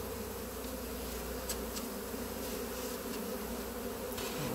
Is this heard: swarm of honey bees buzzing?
yes